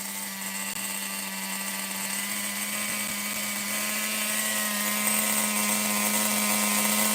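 A Megatech Nitro Razor RC car's small nitro engine runs at a high idle, a steady, loud buzzing whine with a constant pitch that rises slightly in intensity midway, close and continuous with no voices.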